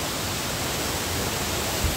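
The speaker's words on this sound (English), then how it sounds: "So we arrived on this waterfall." Steady broadband roar of a waterfall in the Digoria Gorge of North Ossetia's mountains, a continuous even rush of falling water filling the whole clip with no voices.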